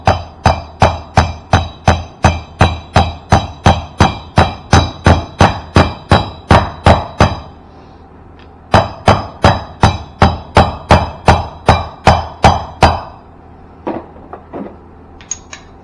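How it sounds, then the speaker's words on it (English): Steady metallic hammer taps ring out in a quick even rhythm, about two per second, driving a Harley-Davidson motorcycle wheel bearing into place, pausing briefly before resuming, then a few lighter knocks at the end. "And go around the outside edge with a hammer."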